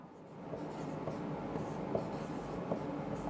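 Chalk or marker taps and scratches on a classroom board in short strokes as a line equation is written out, quiet and close, with a faint hum and no speech.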